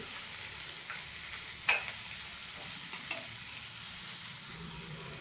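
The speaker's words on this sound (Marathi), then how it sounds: "कांदा व थोडीशी कांद्याची पात व 1 मिनिटासाठी हे मोठ्या आचेवर परतून घेऊ" Onion and spring onion with capsicum stir-frying over a high flame for dhaba-style veg hakka noodles: a soft continuous sizzle with a few sharp clinks and scrapes of the spatula, no voices.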